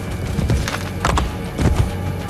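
Horse hooves clip-clop in the Assassin's Creed Brotherhood video game, steady close hoofbeats at a brisk pace over a loud game background.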